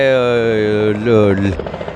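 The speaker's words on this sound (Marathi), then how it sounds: "हेलिकॉप्टर लँड होत आहेत" Close, loud droning hum of a helicopter landing in Bhusawal, with a steady pitched whine that wavers, then drops off abruptly.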